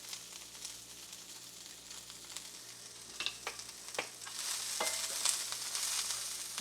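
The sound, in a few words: cabbage frying in a keto beef stir fry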